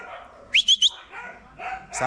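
Three quick, sharp dog barks or yips from guard dogs at a tightly secured place, close together and fairly loud, with people talking before and after.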